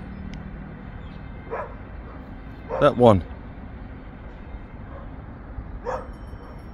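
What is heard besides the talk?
dog barking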